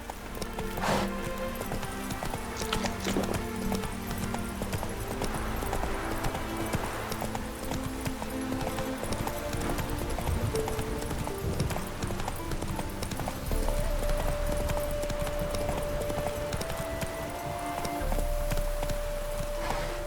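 Horse hooves from Roach in the Witcher 3 video game, a steady running clip-clop close by over game music and ambience, with a brief whinny and a sustained tone late on; no talk.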